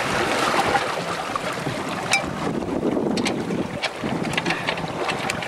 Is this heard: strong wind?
yes